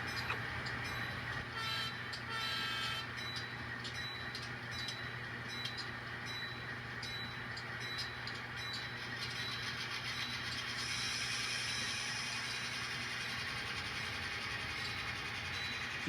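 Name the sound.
GP38-2 or GP39-2 diesel locomotive moving in rail yard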